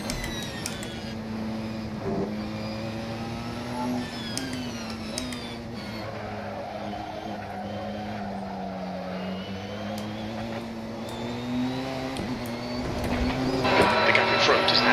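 Porsche 919 race car engine in a racing sim video game during mixed multi-class racing on a bumpy track, a steady high-pitched howl that shifts pitch through gear changes and grows louder near the end, with someone talking over it.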